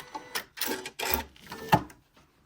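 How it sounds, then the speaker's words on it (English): A Janome Continental M6 sewing and quilting machine stitching an applique corner in short bursts of rapid mechanical whirring, separated by brief pauses, heard close and alone. "it's gonna sew a little further down and start the corner"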